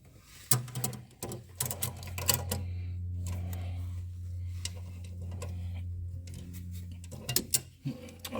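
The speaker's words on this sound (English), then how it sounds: "Tighten down all 3 mounting bolts to the bracket" A 17mm wrench tightening the A/C compressor mounting bolts on a Ferrari 246 Dino GTS, with quiet ratcheting clicks and metallic ticks over a low steady hum, close by.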